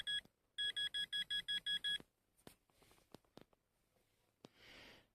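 A metal detector gives a rapid series of seven high electronic beeps while digging medieval coins at an old settlement, then scattered clicks and rustling, closing with a short hiss.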